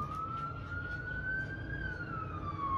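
An emergency vehicle siren wails on a New York street, a single steady tone sliding slowly up and then back down, heard at moderate distance over low traffic rumble with no talking.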